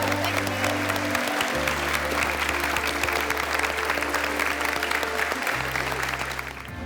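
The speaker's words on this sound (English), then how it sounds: "a big round of applause" A studio audience applauds Heston Blumenthal on MasterChef Australia with sustained, even clapping over low background music, lasting about seven seconds before tapering slightly at the end.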